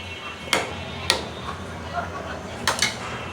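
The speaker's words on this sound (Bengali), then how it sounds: "এখন হচ্ছে ঢাকনা দিয়ে ঢেকে দিব।" Metal lid set onto a cooking pot of potato and egg curry, several sharp metallic clanks with short pauses between them, close by over a quiet kitchen background.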